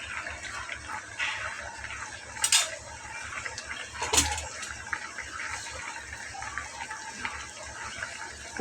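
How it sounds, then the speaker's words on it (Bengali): Pieces of pangas fish going into a pot of simmering potato curry: wet splashes and metal pot clatter, with two sharper knocks and a steady watery hiss underneath, close up. "তো এই যে মাছগুলোকে এভাবে এখন দিয়ে নেব।"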